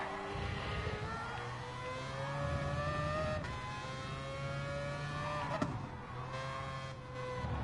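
A race car driven in a PS4 racing video game, its engine whining through rising and falling revs with gear shifts. It is loud and continuous, with a brief sharp click partway through.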